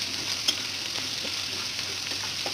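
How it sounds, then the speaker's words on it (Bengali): Potato, onion, coriander, green chili and ginger frying in oil with dry chili and mustard seed tempering, a steady close sizzle with faint stirring scrapes and one brief clink of the utensil. "এখানে আলু, পেঁয়াজ, ধনেপাতা, কাঁচা লঙ্কা, আদা দেওয়া দিয়ে একটু ভেজে নেড়ে নেব।"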